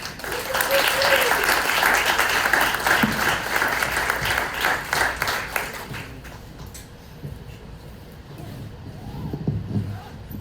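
A round of applause for two guest traiteurs, faith healers from South Louisiana, at a talk: dense, loud clapping from a crowd that fades after about six seconds into quieter room noise with a few scattered claps.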